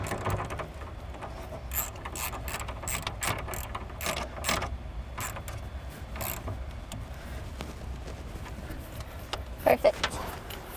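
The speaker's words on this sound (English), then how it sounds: "use your 10mm again to tighten that bolt down" Steady ratchet clicks from a 10mm socket tightening a bolt during trailer wiring work on a 2018 Chevrolet Cruze hatchback, close and soft, repeating in even strokes over a low background hum.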